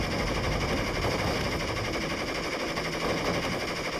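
A machine gun fires in a war video game, a dense, continuous burst of rapid gunfire mixed with game noise that stays steady and loud throughout, with no voices.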